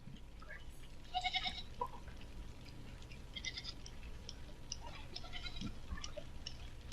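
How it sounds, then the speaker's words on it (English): Several goats bleat in short wavering calls, a few loud cries early and more scattered ones later, heard faintly over a low steady background. "Who had all of these goats?"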